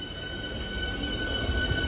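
A Southeastern Class 465 electric train runs through Bexley station with a steady, faint mechanical hum and a high whine, rolling on alone without talk.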